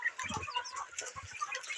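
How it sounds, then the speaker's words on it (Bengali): Desi chickens on a farm cluck in a loose, overlapping chatter, with several birds close by and some wing flutters. "আপনারা দেখতে পাচ্ছেন মুরগিগুলো ভালো মতো আপনাদের আমি দেখাই"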